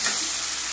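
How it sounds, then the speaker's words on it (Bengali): A spice paste with ground chili sizzles steadily in oil in a pan, a brief, close, even hiss without any voices. "এবার মশলাটা ভালো করে কষিয়ে নেব।"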